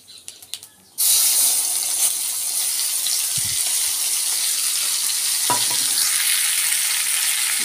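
Ground spice paste dropped into hot oil with nigella seeds, bursting into a loud continuous sizzle after a second of quieter pan sounds, with occasional scraping stirs underneath.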